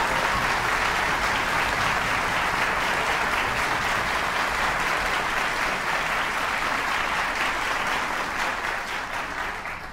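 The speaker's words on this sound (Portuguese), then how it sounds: "Aplausos para ele!" Sustained audience applause for a past winner of the Prelúdio music competition, a dense, even roar of clapping lasting about ten seconds and tapering slightly at the end.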